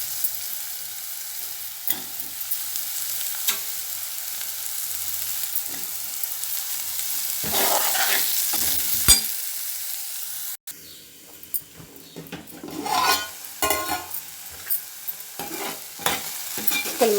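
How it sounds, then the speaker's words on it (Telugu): Chopped ridge gourd pieces fry in a pan and are stirred repeatedly. A continuous sizzling hiss sits under scraping strokes, with a brief break partway and busier clattering stirring afterwards. "ఇప్పుడు మనం తరిగి పెట్టుకున్న బీరకాయ ముక్కలు వేసుకోవాలి ఇందులో"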